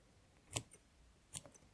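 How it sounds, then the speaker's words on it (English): Two sharp, close snips of small scissors cutting through loops of embroidery thread on beaded hand embroidery, spaced about a second apart in an otherwise quiet room. "Best just to put your scissors in, pull it upright and cut through all of the loops."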